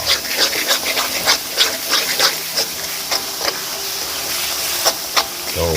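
Fish with tempoyak (fermented durian) sizzling in a frying pan, a steady bright hiss broken by frequent small pops and crackles, close and continuous, with no one talking.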